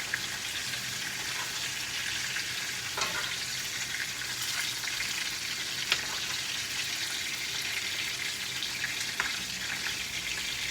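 Grouper fish pieces frying in grease that is not quite hot enough, a steady close crackling sizzle throughout with a few faint clicks.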